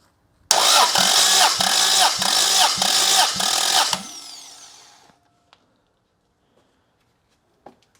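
A six-cylinder engine cranks over during a compression test on cylinder six, a loud, rhythmic starter churn of about three and a half seconds with regular pulses, then winding down into silence.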